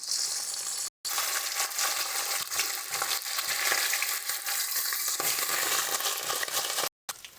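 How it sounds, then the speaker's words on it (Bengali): Pabda fish frying crisp in hot oil in a home kitchen, a loud, continuous sizzle and crackle running close and steady throughout, with faint scraping as the pieces are flipped and no talk over it. "সুন্দরভাবে উল্টে পাল্টে মাছগুলোকে একটু ভালো করে কড়া করে ভেজে নিচ্ছি"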